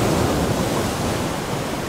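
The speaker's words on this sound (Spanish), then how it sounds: "El fragor de las olas obligó al pescador a gritar para llamar a su amigo." Dark evening sea churning with foam under storm clouds, waves crashing as a steady, broadband roar that fills the whole stretch without pause, loud and close.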